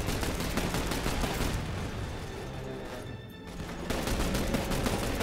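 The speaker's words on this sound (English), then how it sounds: "I'm gonna use up all my ammo shooting this thing." Dense, continuous gunfire in The Bureau video game as a player shoots at an enemy gunship, loud bursts and volleys throughout with a brief dip in intensity midway before the shooting swells again.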